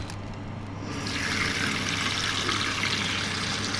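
Tap water runs into a sink as raw chicken feet are washed, starting softly and then swelling into a steady, full splashing rush that continues without a break.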